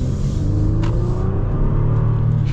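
A Honda Pilot Touring's naturally aspirated V6 pulls hard under acceleration, a steady loud engine drone heard from inside the cabin with no talking.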